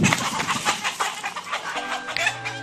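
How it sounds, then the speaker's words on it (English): Chickens cluck and a rooster gives a short call at an early morning wake-up in desert canyon country near Fruita, Capitol Reef; the birds sound fairly close and keep up a busy, uneven chatter. "Some people were getting really upset over the early morning chicken wake-up call."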